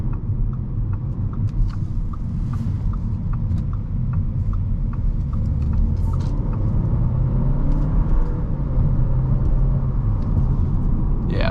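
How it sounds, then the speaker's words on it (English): A 2021 Audi A4 40 Premium accelerates up a hill, its engine building a steady, loud rumbling drone heard from inside the cabin over continuous road noise, with no talk. "We're gonna do one more acceleration going up the hill"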